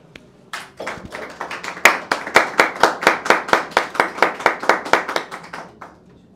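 Audience at a live Zodiac social-deduction game tournament claps to send off a player leaving the game: about twenty sharp, evenly spaced claps in a steady unison rhythm, close and fairly loud, with no talking over them.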